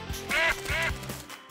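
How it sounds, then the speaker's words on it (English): A duck gives two quick, nasal quacks close up in a cartoon setting, each short and bright, with a brief pause between them. "Q is also for quack."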